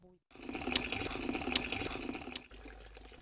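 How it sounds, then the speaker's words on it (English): Tap water trickling slowly into a container during a water shortage in Johannesburg, a steady hissing flow that stops abruptly near the end, with a low hum continuing afterward. "I have to wait for a long time because, as you can see, water is taking forever to come out"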